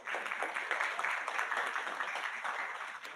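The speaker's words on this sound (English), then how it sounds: "Give them a round of applause" Lively clapping from a forum audience at an adolescent financial literacy event, a dense burst of many hands that holds steady and tapers slightly toward the end, with no voices on top.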